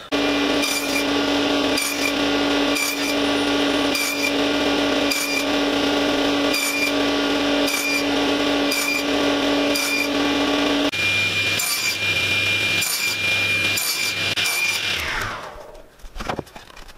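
Router cutting dados across wood stock for a workbench, a loud, continuous high-pitched whine with repeated rhythmic pulses as it makes pass after pass, shifting tone partway through before the motor spins down.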